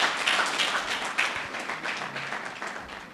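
An audience claps together at a graduation ceremony for a basic course in psycho-trauma healing, a dense, steady round of applause that slowly fades over a few seconds.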